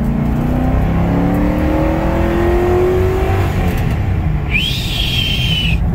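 A Lincoln Town Car accelerates hard, its engine note climbing steadily and loudly in pitch, and a brief high whine appears near the end.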